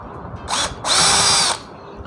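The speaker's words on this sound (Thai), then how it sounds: "ก็เดี๋ยวผมใช้ นี่นะครับ สว่านแบตตัวนี้นะครับ ถอดเลยนะครับท่านผู้ชม" A cordless battery drill whirs in two short bursts, a brief spin then a longer steady whine, backing out screws from another cordless drill under repair, against a faint background.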